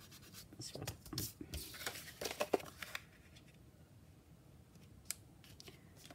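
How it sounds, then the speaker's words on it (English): Scissors snipping paper to cut the sides of a junk journal tag, a few quiet close crisp cuts with light rustling and faint handling noise at a craft table. "And then you just cut your sides and then you've got yourself a tag."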